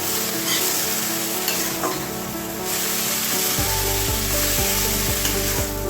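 Bathua greens with ginger-cumin paste frying and being stirred in a pan, a loud steady sizzle with scraping strokes, close up and without voices, with a low hum appearing partway through.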